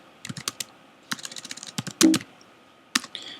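Clicky computer keys tapped in quick irregular bursts as a router command is entered, with short pauses between groups of keystrokes and one heavier thump near the middle, close and fairly quiet, no voices.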